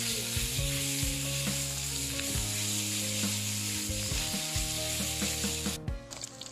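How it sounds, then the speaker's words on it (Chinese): Meat is stir-fried in a wok to render out its fat: a loud, continuous sizzle with scraping stirs, over a steady tonal background. "油给它煸出来了"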